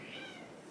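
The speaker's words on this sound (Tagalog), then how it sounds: "feeling ko naririnig niyo yung pusa namin" A pet cat gives a single short, faint meow indoors, brief and high-pitched against quiet background.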